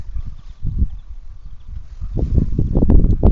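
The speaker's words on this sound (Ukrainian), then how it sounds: "вітер мотиляє" Gusty wind buffets the microphone in uneven rumbling bursts outdoors in a garden, growing stronger toward the end, with no voices.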